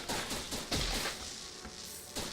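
Rapid video game gunfire with ricocheting bullets, a loud burst of overlapping shots and sharp pings repeating irregularly through the moment.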